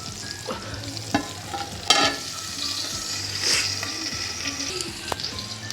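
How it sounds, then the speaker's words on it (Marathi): Prawns frying on a griddle over a wood-fired stove, a continuous close sizzle with scattered scrapes and knocks of a utensil against the metal, no talking. "आता अशा प्रकारे आपण सगळे कोलंबी तव्यावर टाकून घेतलेले आहेत।"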